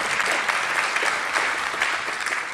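An audience claps steadily at a university announcement event, a dense, continuous round of applause that holds at an even level throughout.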